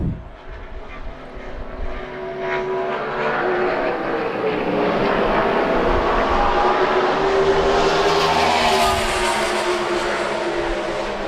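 Kurt Busch's number 41 NASCAR Sprint Cup car pulling out of the pits during testing at New Hampshire Motor Speedway, a loud engine rising and building to a sustained roar that holds steady near the microphone.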